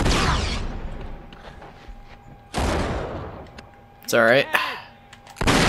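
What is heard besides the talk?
enemy gunfire in the video game Uncharted 3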